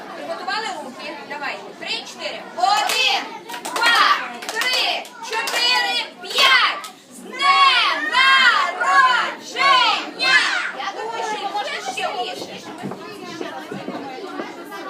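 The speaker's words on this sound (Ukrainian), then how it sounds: "І слухай, як голосно їх кричать." Many children shout and chatter loudly together at a Frozen-themed birthday party, voices rising in bursts, some in unison, close and energetic throughout.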